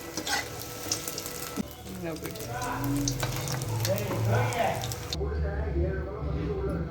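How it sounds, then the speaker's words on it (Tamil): Meal maker soya balls deep fry in hot oil over medium heat, a soft bubbling sizzle running beneath a person talking throughout. "கொஞ்சம் மீடியமில் வச்சு ஃப்ரை பண்ணுங்கள், ரொம்ப ஹையில் வைக்காதீங்க, தீஞ்சிடும்"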